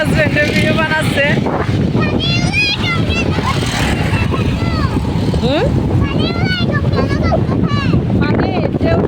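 Strong wind buffets the microphone on a flooded village shore, a loud continuous roar throughout with people talking over it.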